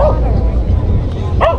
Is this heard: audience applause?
no